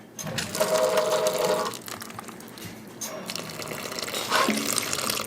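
Tap water runs from a kitchen sink faucet into a measuring cup for about a quarter cup, a steady close rushing stream that swells and eases, with no talking over it.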